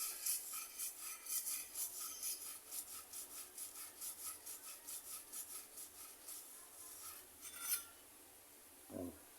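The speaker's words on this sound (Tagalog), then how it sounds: "Tapos, yung pagitan nila, papadaanan mo ngayon ng liha." Sandpaper rasps in fast, even back-and-forth strokes over the glass lining of a SYM Radar 125 scooter, a faint, rhythmic scratching heard up close with a louder scrape near the end.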